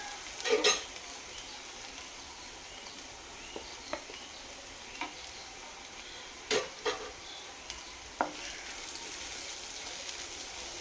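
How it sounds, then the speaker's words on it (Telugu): Green chillies frying with browned onions in a pan for a poppy seed curry, a soft steady sizzle broken by sharp intermittent clinks and scrapes of a spoon stirring, with no talking. "ఎర్రగా ఆగాక ఇందులో ఉల్లిపాయ పచ్చిమిరపకాయలు వేసుకుందాం."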